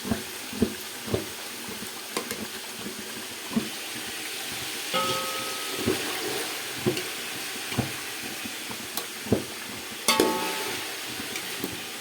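Chicken frying in a pot for a desi-style pulao, a continuous sizzle with periodic stirring clanks and scrapes up close, no talking.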